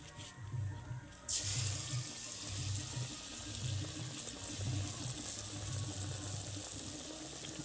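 Bread pakora fries in hot oil, a steady bubbling sizzle that fills the background, with a rhythmic low thumping pattern beneath it and a brief clatter near the start, no talking.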